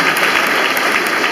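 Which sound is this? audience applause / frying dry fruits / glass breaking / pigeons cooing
audience applause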